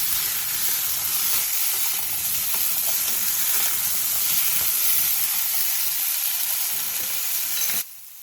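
Potatoes and carrots sizzling steadily as they are stir-fried in a pan, a continuous loud frying hiss with light stirring that cuts off abruptly near the end.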